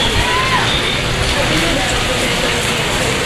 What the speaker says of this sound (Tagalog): Tuluyan na siyang ulan. Pero hindi naman siya kalakasan